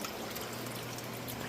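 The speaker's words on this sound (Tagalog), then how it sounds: "yun yung filter natin pasok dito ng tubig galing sa pump" Water from a pump flows steadily into a pond filter beside a tarpaulin tilapia pond, a constant hissing trickle that stays even and faint throughout, with no talking.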